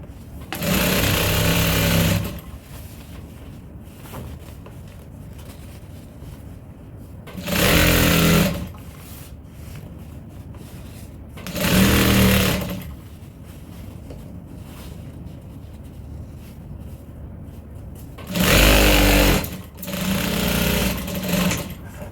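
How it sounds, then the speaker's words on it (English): A sewing machine stitches a fabric tote bag handle in four steady whirring runs of a second or two each, with quieter pauses between them and no talking. "Then I'm going to go ahead and sew that."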